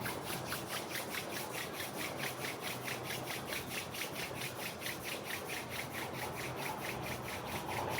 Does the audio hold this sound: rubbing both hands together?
yes